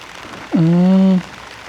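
Steady heavy typhoon rain pours down continuously on a flooded farm, with a brief harmonic voiced sound rising above it halfway through.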